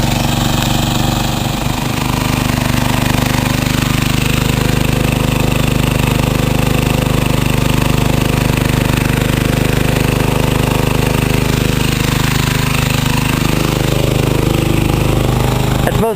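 A motor runs alongside grid-tie inverters, giving a loud, unbroken mechanical drone with a steady hum that holds constant throughout.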